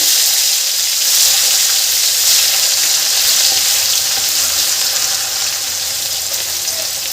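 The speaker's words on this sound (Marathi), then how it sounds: "मी हा मसाला छान खमंग परतून घेते" A ground masala paste fries in a pan with a loud, steady, close sizzle that holds evenly throughout without talk.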